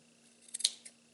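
Scissors trim excess cotton wick against a vape mod, with a few quick close snips clustered mid-clip over a quiet background.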